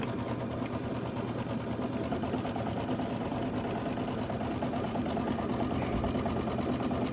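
A sewing machine stitching steadily while quilting the borders of a pumpkin-themed quilt, a fast continuous mechanical whirr with rapid needle clatter, close and even throughout.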